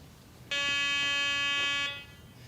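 A Garrett walk-through metal detector sounds a single loud, steady electronic buzzer tone for about a second and a half when a razor blade passes through, then it cuts off and quiet background returns.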